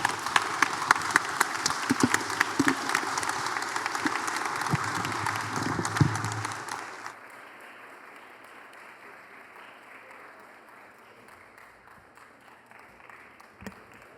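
Loud applause from an awards ceremony audience at a leadership awards event, dense clapping for about seven seconds before dropping abruptly to quiet room tone with a faint later sound.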